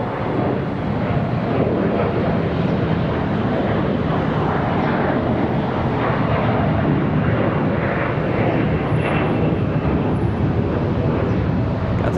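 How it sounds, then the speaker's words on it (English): Spirit Airlines airliner at Charlotte Douglas airport, its jet engines giving a steady, loud broadband roar that holds without a break, with some wind buffeting on the microphone. "Spirit Airlines coming up next."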